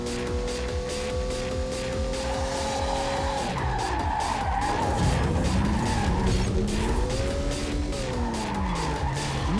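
Race car drifting in the Ridge Racer Driftopia video game, with a loud, continuous tire skid and squeal over a revving engine whose pitch rises and falls throughout, no voices.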